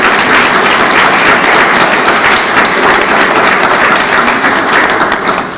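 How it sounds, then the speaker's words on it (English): Steady, dense audience applause fills a hall at a cardiologists' association dinner in New Orleans, loud and sustained throughout with no pauses or talk. "Please give them a round of applause."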